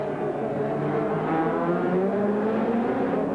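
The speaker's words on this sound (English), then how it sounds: "as the Nissan switches across at the bottom of the straight now, still chasing the Commodore" A Nissan Group A touring car engine roars steadily and loudly as it passes on the circuit during a 1990 Australian Grand Prix support race.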